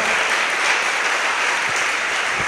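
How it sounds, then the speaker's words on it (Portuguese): A church congregation claps in a continuous, even wash of applause that fills the space, loud and unbroken without any voices on top. "Você pode aplaudir e glorificar o nome do Senhor Jesus?"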